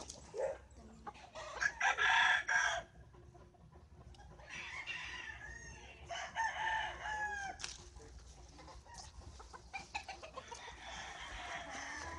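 Roosters at a Spanish-speaking cockfighting farm crow loudly in several bursts, with clucking and other fowl calls in between, all close and clear with no talk over them.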